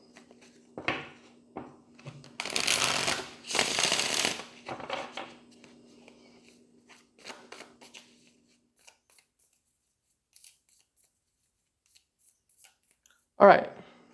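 A few brisk riffling bursts of tarot cards being shuffled, with soft taps and handling noises in between, then a final sharp snap after a quiet pause.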